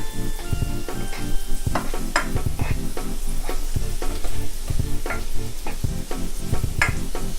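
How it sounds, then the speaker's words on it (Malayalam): Raisins frying in a pan while being stirred, heard close up as a loud, continuous sizzle with repeated scraping and clinking strokes of the spoon. "ഇനി ഈ മുന്തിരി നന്നായി ഫ്രൈ ചെയ്തെടുക്കണം."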